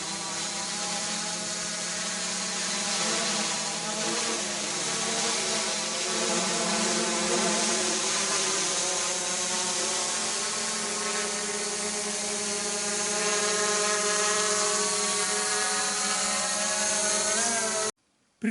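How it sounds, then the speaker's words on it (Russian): A new quadcopter drone flies outdoors in frosty minus-ten weather, giving a steady, loud, high electric whine with shifting pitch that runs unbroken for about eighteen seconds. "Как не воспользоваться и не полетать новым квадрокоптером"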